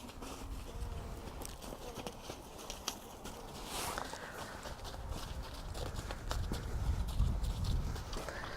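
A horse ridden over a small jumping course of vertical, diagonal and outside-line fences produces rhythmic cantering hoofbeats on an arena surface, steady throughout and growing louder and nearer toward the end, with no voices.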